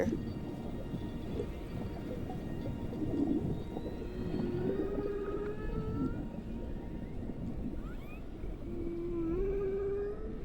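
Humpback whales vocalize beneath the sea and are heard from the water surface, with drawn-out rising and falling moans and squeals over a constant rumbling underwater background, moderately loud and without speech.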